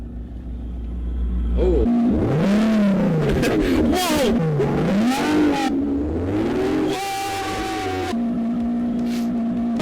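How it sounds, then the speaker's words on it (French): A V12 engine revving sound played from a cigarette-lighter plug-in gadget inside a car: after a low idle, the engine note sweeps up and down in several rising, falling revs, loud and close, then settles into a steady drone, with a brief exclamation over it. "un truc qui va te permettre d'avoir un moteur de V12"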